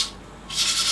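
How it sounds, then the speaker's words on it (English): Hand sanding a dark birch bowl on a wood lathe with 80 grit sandpaper, a short hissing scratchy rub that quiets briefly and then returns louder and brighter. "I'm having to go down to 80 grit sandpaper"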